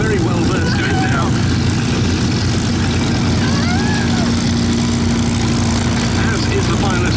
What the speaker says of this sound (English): An aeroplane with some quite tricky handling characteristics, the Stagger Wing, for the unwary.